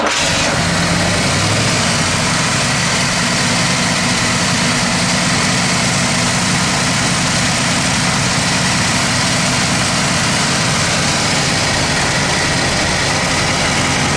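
A 1972 Buick GS 455 Stage 1 V8 cranks briefly and catches, then settles into a loud, steady, rumbling idle close by, running alone without any voices.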